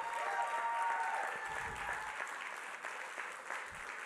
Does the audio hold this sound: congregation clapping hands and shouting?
yes